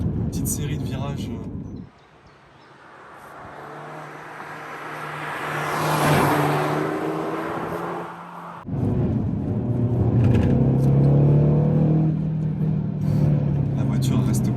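A 185 hp Audi A1 1.4 TFSI engine hums and drones as the car takes a series of corners, pitch rising and falling with load, with a brief quieter dip before the engine note returns louder and steadier.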